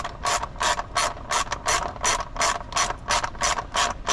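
A hand ratchet tightens bolts on the hose and fuel line cover of a 2022 Can-Am XRS, clicking in a quick, regular back-and-forth rhythm of about a dozen close, crisp strokes with no talk.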